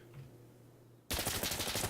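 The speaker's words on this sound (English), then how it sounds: "Oh, you're shooting me." A rapid burst of gunfire in the video game Insurgency Sandstorm erupts suddenly and loudly after a quiet stretch, continuing as dense, fast repeated shots.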